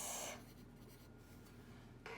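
Soft scratching of a pencil on paper, quiet and close, with a few brief strokes at the start and end.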